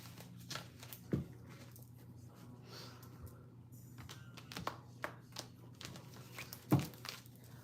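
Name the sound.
shuffling tarot cards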